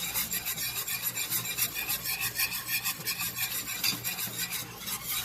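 Keto sausage gravy seasoned with Himalayan pink salt and pepper is stirred in a pan, giving a steady close scraping, rasping rhythm of a spoon working through thick, gritty gravy, with no talk.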